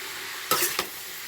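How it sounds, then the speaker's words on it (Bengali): Fish head curry with onion cooking in fish oil sizzles steadily while a utensil stirs it in two short, close scraping bursts. "এভাবে নাড়াবো আর চাপা দিয়ে দেবো, তাহলে আস্তে আস্তে তরকারিটা ওই মাছের তেলেই মজে"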